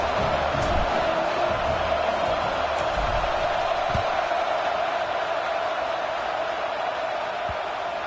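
Steady, dense roar of a stadium crowd in a college football video game, Buffs versus Gators, holding at an even level throughout with a muffled, subdued quality and no clear peaks of cheering.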